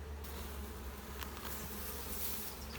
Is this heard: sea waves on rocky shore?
no